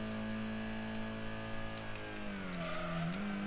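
Race car in Gran Turismo during a B licence test, its engine droning steadily with rising pitch as it accelerates, then a short tire squeal through a bend near the end.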